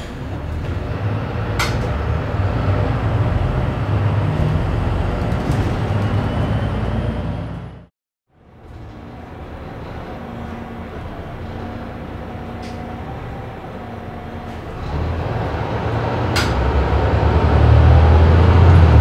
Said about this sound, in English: Let's now take a look at the inside noises recorded at the center of the bus.